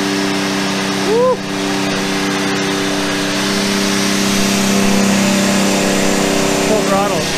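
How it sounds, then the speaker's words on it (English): Nissan Z31 with a turbo engine on a dyno at full throttle, set up on Megasquirt and running almost 20 psi of boost. It gives a loud, steady drone with a whine that rises slowly, and people talk and cheer over it. "Full throttle."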